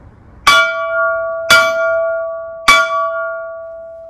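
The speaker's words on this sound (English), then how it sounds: "We have a steam locomotive bell over here," A large steam locomotive bell at a railroad museum rings three times at even intervals, each clear strike leaving a long sustained tone that hangs in the air, no voices.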